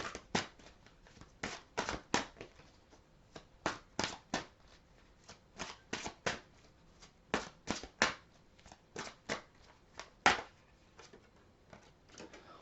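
Tarot cards are shuffled and laid down during a reading, giving a steady series of crisp, close slaps and riffles in short irregular bursts, with no voice.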